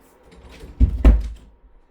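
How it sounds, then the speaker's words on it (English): A close door swinging and closing with two low thuds in quick succession, then quiet. "Let me shut my door."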